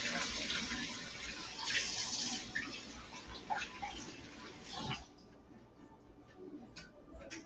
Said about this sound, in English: just take a little bit, not a lot, just a couple of sprigs, and give it a little wash